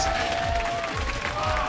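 Studio audience applauding at a League of Legends esports match, a dense, steady wash of clapping from a crowd with a voice talking over it.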